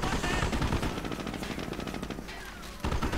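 A tripod-mounted heavy MG42 machine gun fires in a World War II strategy game, a loud continuous rattle of rapid bursts with dense crackling overlap, with a brief lull before firing resumes.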